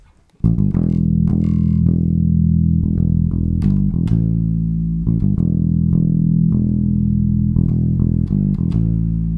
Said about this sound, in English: So if I was to play all of those notes in that riff fully held, it would sound like this.